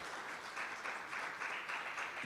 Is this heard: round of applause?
yes